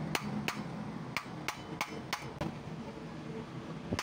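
Sharp metallic hammer blows strike an old-model Standard orbit fan's motor stator housing at an uneven pace, about ten hits, loud and close, with no talking.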